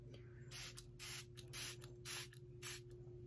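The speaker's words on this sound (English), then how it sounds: "I'm gonna try spraying this on my face for you guys." Bursts of fine mist from a facial spray bottle hiss out one after another in quick, close puffs, about five short sprays in a row against a low steady hum.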